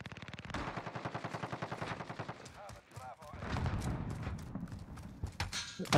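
Rapid, loud footsteps from a player character in Call of Duty: Modern Warfare hardcore mode, a steady run of thudding impacts for the first few seconds, then denser game noise with clattering sounds.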